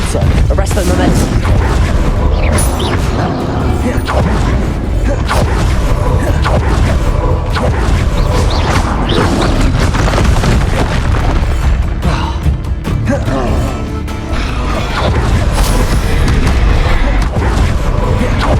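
Confringo blasting spells erupt in repeated booming explosions during a Hogwarts Legacy battle, a dense, loud barrage layered with other spell impacts and game sounds that continue almost without pause.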